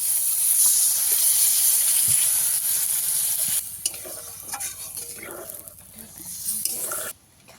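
A pan of sautéed vegetarian broccoli masala hisses loudly, then the sizzle drops sharply as water goes in, leaving a quieter simmer with stirring clinks before a brief loud burst at the end.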